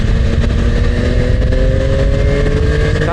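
Heavy road traffic with lorries and other vehicles rumbling past a motorcycle rider on a highway toward Johor, a continuous loud engine drone with rising and falling tones throughout.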